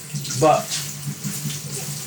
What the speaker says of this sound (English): I would put some cold water in the sink.